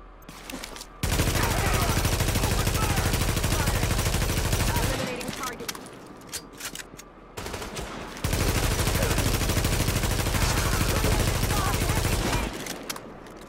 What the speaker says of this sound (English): Is there anything quite like a rooftop firefight?